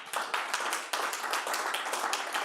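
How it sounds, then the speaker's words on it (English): Audience applause after a talk on American foreign policy, a steady patter of hand claps from a modest crowd, fairly close and continuous without any talk over it. "please give him a round of applause."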